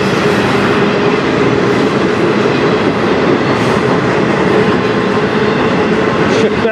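A CN manifest freight train on the Strathroy Subdivision passes at night with a steady, loud, close rumble and rolling clatter of cars, ending with a faint wheel squeal.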